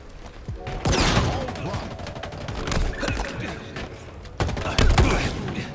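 Dense gunfire and grenade blasts in a Halo-style multiplayer shooter match, heard as continuous rattling shots with heavy explosive bursts near the start and again toward the end, loud and close throughout.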